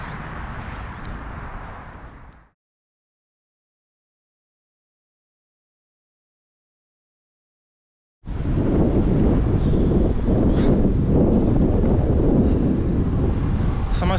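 Strong wind buffeting the microphone of a runner outdoors during a city run, a loud roaring rush that cuts out for several seconds and then returns just as harsh.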